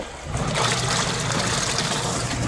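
A Panasonic washing machine runs after a part replacement, giving a steady, loud churning and motor hum with sloshing water throughout, no voices.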